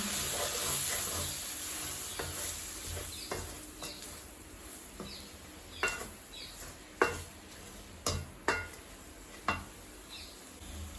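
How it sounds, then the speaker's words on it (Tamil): Masala sautéing in a pan for Chettinad chicken curry, a soft sizzle under intermittent clinks and scrapes of a spoon against the pan, growing sharper toward the end. "நல்லா வதங்கிட்டுது பாருங்க."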